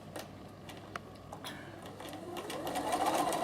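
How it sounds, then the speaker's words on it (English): A Bernina sewing machine stitches a patchwork storage roll on the wrong side, a soft steady mechanical whir with light ticking that grows a little louder toward the end. "So I'm just going to stitch this on the wrong side."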